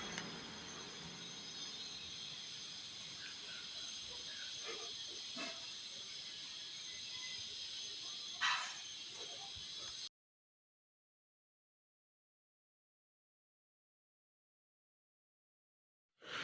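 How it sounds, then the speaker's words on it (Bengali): Wheat-flour panipuri (phuchka) frying in oil in a small wok, a steady bubbling hiss lasting about ten seconds with a brief louder sizzle burst, then silence. "এভাবেই সব ফুচকাগুলোকে আমি ভেজে নিচ্ছি।"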